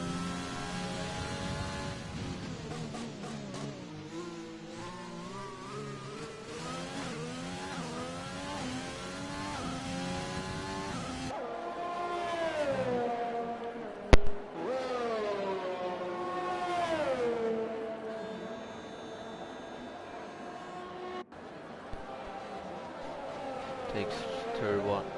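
A racing car engine in a sim racing game revs up and down through the gears on an outlap at Brazil, rising and falling pitch sweeps close and clear, with a commentator talking over it.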